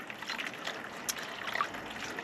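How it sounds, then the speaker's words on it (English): Water poured over a coir block so it can soak and expand for seed sowing, a soft close trickle and splash heard alone for a couple of seconds. "just pour some water over it, and then I will just leave it overnight to expand"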